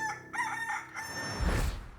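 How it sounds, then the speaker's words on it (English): A rooster crows at dawn on a Georgia cattle farm, one long, bright cock-a-doodle-doo rising and then trailing off, loud and near, followed by a swell of low rumbling background noise. "waiting for the rooster's crow at the crack of dawn, signaling a new day on the farm"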